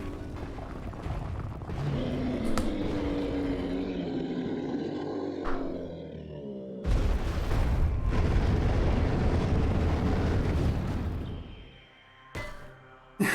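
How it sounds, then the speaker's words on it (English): Missiles fired and exploding in the game Metroid Prime Remastered: a long rumbling roar, then sharp loud blasts with sudden cutoffs and a final burst, with no voices. "I have missiles, I may as well use them."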